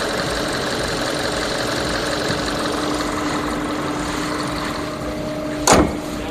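A car engine idles steadily and evenly at close range, a constant low hum with faint mechanical knock, then a brief sharp burst of noise near the end; no one speaks.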